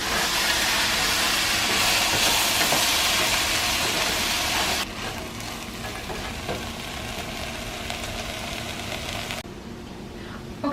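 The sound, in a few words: vegetables sautéing in a pot for lentil soup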